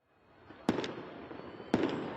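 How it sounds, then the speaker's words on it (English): Fireworks burst over Damascus at night during celebrations, two sharp loud bangs about a second apart, each followed by crackling and echoing rumble over a low background hum. "Fireworks light the night sky over Damascus"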